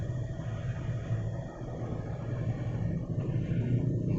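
Steady low road rumble of busy Cebu City traffic, with engines of passing buses and jeepneys blending into a continuous near drone on a rainy-season street, no talking.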